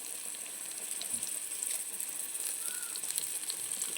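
Onions, green chillies and curry leaves frying in hot oil for a Kerala-style roasted chicken curry, a steady soft sizzle close by, even and continuous with no talking.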